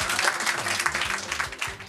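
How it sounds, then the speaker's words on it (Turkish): Audience at a quiz night show applauding, a brief burst of many hands clapping close by with bits of crowd voices underneath. "Siz de alkışlayın."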